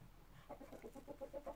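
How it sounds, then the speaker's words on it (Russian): Soft, rhythmic low clucking from a heavy French-line Muscovy duck sitting on its nest, repeated short calls about every fraction of a second, fairly quiet and close. "Хочу вам показать свою уточку, которая сидит на гнезде с 4 мая."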